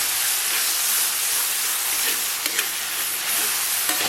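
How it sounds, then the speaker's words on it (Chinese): Sliced garlic and chopped scallions sizzle in moderately hot oil in a home kitchen wok, a steady bright hiss with a few soft clinks as the pan is handled. "油温3、4成热，咱们把葱花蒜片给它下里边"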